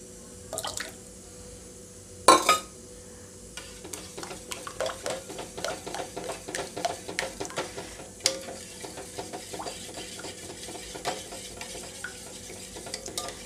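A curd mixture is stirred by hand into ragi ambali in a pot after the stove is switched off, making soft wet scraping and dripping strokes in a steady rhythm, close by, with one sharper clack early on.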